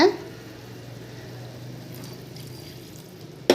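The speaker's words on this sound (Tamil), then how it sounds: "கழனி தண்ணியும் ஊற்றுங்க" Rice-washing water is poured into a cooking pot for a green tomato and okra kalani mandi, giving a soft, steady, fairly faint stream of liquid that ends with a sudden clatter.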